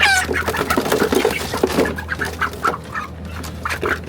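Broiler chickens cluck and squawk continuously at close range, several birds overlapping in a busy, noisy flock.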